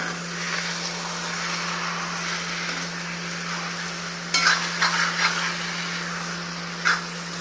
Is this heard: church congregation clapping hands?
no